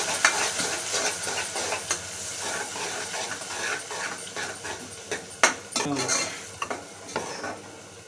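Reddened onion and a blended ground paste are stirred in a pan for egg chaaru, a soft sizzle under repeated spatula scrapes and clinks against the metal, close and uneven.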